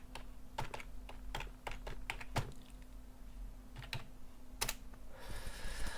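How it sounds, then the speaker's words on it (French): A password is typed quickly on a computer keyboard: a rapid, irregular run of crisp key clicks, close and fairly quiet over a faint steady hum, with no voices. "je vais taper vite"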